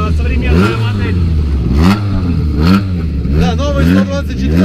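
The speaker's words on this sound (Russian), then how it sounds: "А едет у нас еще один Fiat Abarth раллийный." A modern Fiat Abarth 124 rally car, built on the Mazda MX-5, passes loudly with its engine revving and rising and falling through the gears, while a commentator talks over it.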